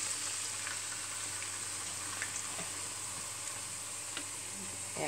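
Chunks of garlic and fresh tuna fry in a pan, a constant close sizzle and crackle with faint stirring, no voices.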